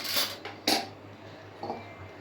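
A metal kadai, or wok, is set down on a stove while carrot halwa is being made: a few sharp metallic clanks and clinks, close by, over a low steady hum.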